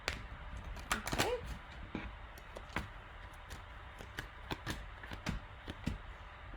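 Tarot cards being shuffled by hand in short, quiet bursts of riffling and tapping, repeated irregularly at close range in a calm room.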